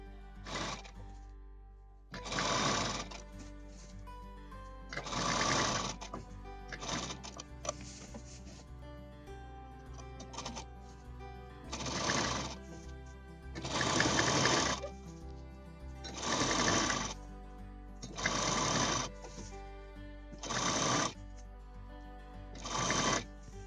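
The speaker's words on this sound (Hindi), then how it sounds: "इसके ऊपर ऐसे रख करके ऐसे स्टिच कर देंगे" A sewing machine runs in repeated stitching bursts, stopping and starting about a dozen times, as a fabric strip is sewn onto a cloth grocery bag with handles. A low, steady hum persists through the pauses.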